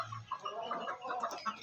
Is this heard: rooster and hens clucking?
yes